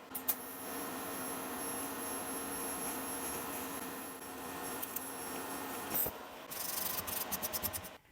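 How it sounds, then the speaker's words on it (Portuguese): A Lynus LIS 250 AL aluminium welding machine with a high-frequency arc starter holds a steady, buzzing hiss of welding arc for several seconds, then breaks into a series of rapid crackling pops toward the end. "Ela já tem o centelhador para abrir o arco"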